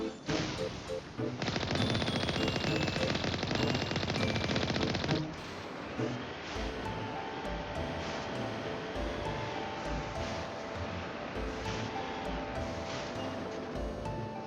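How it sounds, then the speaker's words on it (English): Rapid automatic fire from an Alliance heavy turret in Mass Effect: a dense, loud burst of continuous shots for several seconds, then a lower sustained rumble of combat noise with scattered impacts. "It's an Alliance heavy turret, though."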